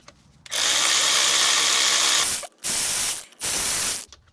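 Power tool or ratchet working bolts into a Range Rover Supercharged gearbox valve body, three close, loud bursts of whirring, the first long and two shorter, with brief pauses between.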